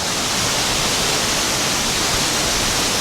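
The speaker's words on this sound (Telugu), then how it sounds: "వాటర్ ఫాల్స్ అలా కింద పడుతుంటే ఆ నీళ్ళు వచ్చేసి వర్షపు నీటిలాగా మన పైన పడుతుంటే" A waterfall in a hidden forest in Sri Lanka, heard as a loud, unbroken broadband roar of falling water, steady and close, with no voices.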